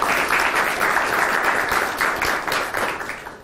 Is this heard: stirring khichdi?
no